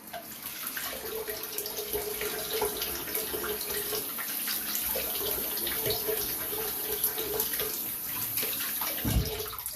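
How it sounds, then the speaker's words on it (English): A Blackland Blackbird SS safety razor head is rinsed under a running tap, giving a steady, continuous splash of water into a sink that lasts throughout, fairly close and with no voices. "go ahead and rinse off the head here"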